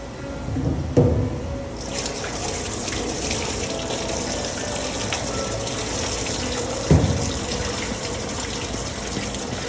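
Water poured into a pot for cooking sushi rice, a steady gushing pour heard close up with a couple of knocks of the pot.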